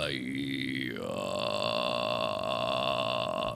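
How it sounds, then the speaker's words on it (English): A singer's low vocal fry grunt, a creaky, rattling tone that slides down and then holds steady at one low pitch for about three seconds, loud and close with no other sound. "if you try to make a grudge sound, you may discover your vocal fry register"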